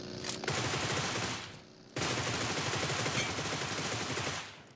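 Automatic weapon fire in PUBG Mobile rattles in rapid sustained bursts, loud and close, with a brief lull between two long volleys.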